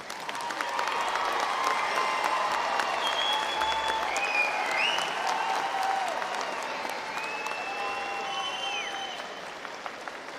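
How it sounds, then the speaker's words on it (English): A large crowd applauds graduates at a University of Houston–Victoria fall commencement ceremony, sustained dense clapping over about ten seconds with faint scattered whistles and cheers, easing slightly toward the end. "Let's give all of our graduates another round of applause."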